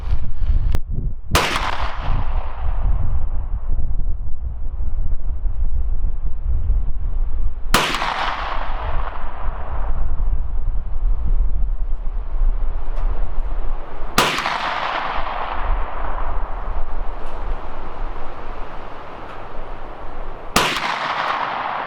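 Four loud, sharp shots from a KelTec Sub2000 Gen 2 carbine fired at a target outdoors, spaced several seconds apart, each with a short echoing tail over steady wind noise.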